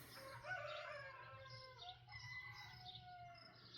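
Roosters crow in long, wavering calls that overlap one another, faint and somewhat distant, with a low steady hum underneath and no voices.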